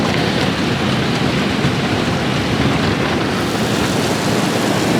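Dense, steady roar of water spray and whirling fan brushes fills a car wash tunnel, a continuous close wash of hiss and rumble with no pauses.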